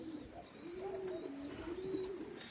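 Pigeons cooing in a loft holding young birds: soft, close, rolling coos in a continuous low murmur, with faint higher chirps behind.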